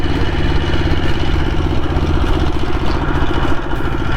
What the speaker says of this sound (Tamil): வண்டி சும்மா எக்ஸ்லேட்டர் கொடுக்க அப்படியே போகுது.